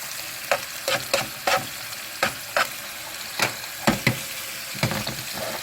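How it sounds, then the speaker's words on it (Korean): Garlic and bacon fry in oil, sizzling and crackling steadily in a hot pan, broken by repeated sharp scraping strokes of a utensil stirring the food. "약간 튀기는 느낌으로 기름을 한 곳에 모아줘가지고"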